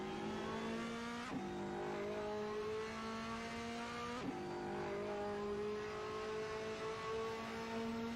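A race car in a racing video game runs a hot lap of the Imola circuit, its engine whining steadily at high revs with two quick upshift dips, heard close and alone.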